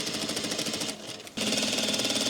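A sewing machine runs a garment seam, a fast rattling whir close by with a brief slowdown partway through before it speeds up again.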